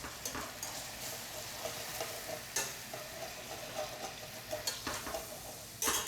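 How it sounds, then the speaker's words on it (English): Flour being whisked into hot fat in a pan: a quiet, steady sizzle with light scraping strokes and a few sharper taps of the whisk against the pan, close up with no talk. "Whisk all that in."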